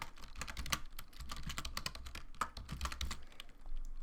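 Typing on a computer keyboard while setting up a WordPress website: a steady run of close, crisp key clicks with brief irregular pauses, no talk.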